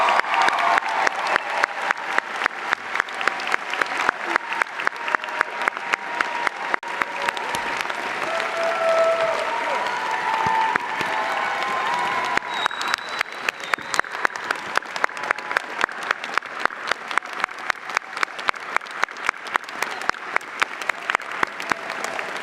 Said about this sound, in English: Please join me in another round of applause for this amazing class.